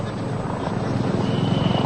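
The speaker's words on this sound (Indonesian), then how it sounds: "nampak sudah ada helikopter patroli milik kepolisian" A police patrol helicopter's steady rotor chop thrums overhead near Sarinah, Jakarta, after a bombing at a police post, a continuous pulsing drone at moderate loudness.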